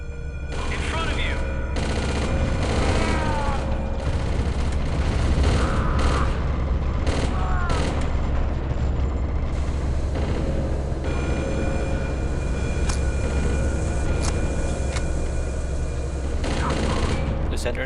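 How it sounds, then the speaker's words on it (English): Explosions and falling debris in the video game Chaser: dense rumbling blasts and rattling crashes keep going at steady loudness, with the game's mechanical noise running underneath throughout. "given all these explosions and things falling around our ears"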